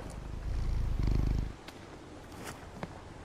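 A cat purrs while being petted in the video game Concrete Genie, a close, low rumbling purr for about a second and a half before it fades, followed by a few faint clicks.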